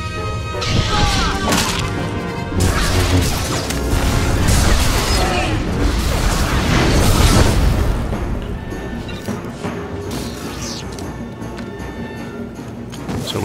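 Shuttles blown up by detonated explosives during a Dromund Kaas planetary mission in a video game, heard as heavy, rolling crashes and booms layered densely across the whole stretch, with some talk underneath.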